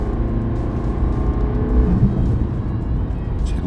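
A BMW 320d diesel engine accelerates hard from inside the cabin, a steady loud low drone and whir building throughout with no talk.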